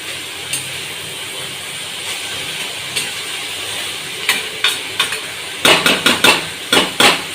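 A spoon stirring Bengali banana flower curry (mochar ghonto) in a pot: a soft background simmer with sporadic scrapes, then a quick run of sharp clinks and taps near the end.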